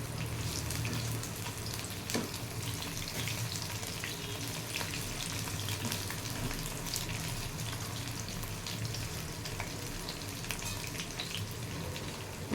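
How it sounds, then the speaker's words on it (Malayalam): Chicken 65 pieces fry on low flame in a pan, a steady dense sizzle and crackle of hot oil that holds close and constant throughout, with a faint scrape of stirring and no talking. "ഇതിങ്ങനെ ഫ്രൈ ചെയ്തുകൊണ്ടിരിക്കാൻ നല്ല ക്ഷമ വേണം, ചെറിയ ഫ്ലെയിമിലൊക്കെ ഇട്ട് ഫ്രൈ ചെയ്യുമ്പോൾ"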